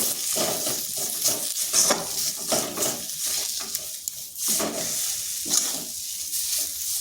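Potato patty filling with coriander leaves is stirred in a pan, a soft sizzle running under repeated scraping strokes of a spoon against the metal, close and continuous.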